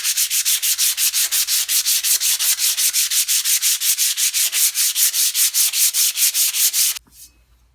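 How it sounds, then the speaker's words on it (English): A steel helmet is rubbed with 80 grit sandpaper in fast, even back-and-forth strokes, a loud rhythmic rasping that runs steadily before stopping abruptly near the end. "grab a bit of 80 grit sandpaper"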